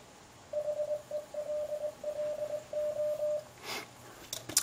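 A single steady beeping tone keys on and off in short and long bursts, like Morse code, fairly clear over a faint hiss, ending in a brief burst of static.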